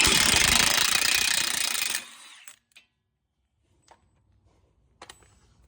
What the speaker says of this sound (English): I'm using a size 30 impact from OE Tools with Milwaukee impact.